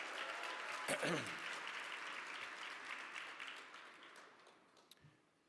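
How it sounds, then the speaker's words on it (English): Conference audience applause for award winners, a dense wash of clapping that gradually fades toward the end, with a few isolated knocks and faint voices. "Let's give another round of applause to the 4 magnificent Legacy Award winners we had last night"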